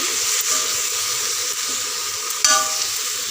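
Soaked moong dal and bottle gourd pieces frying in a pan give a steady, close hiss of sizzling, with a faint scrape of stirring and one brief metallic clink.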